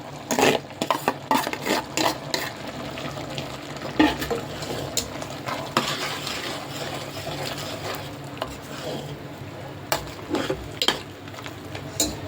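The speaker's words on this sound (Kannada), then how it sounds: "ಅಲ್ಲಿವರೆಗೂ ನಾವು ಇದನ್ನು ಫ್ರೈ ಮಾಡಬೇಕಿದೆ" Raw ground masala paste frying and being stirred in a pan for a mutton tripe (boti) gravy, with steady sizzling under repeated scraping and clinking stirs, close and moderately loud, no talking.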